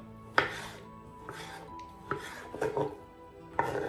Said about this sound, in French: Les aubergines, en revanche, je vais partager d'abord en deux et ensuite je vais couper de gros cubes.